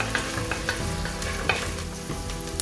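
Chili and onions sautéing in hot fat for chili con carne, a steady sizzle broken by short scraping clicks of stirring, close and with no talking.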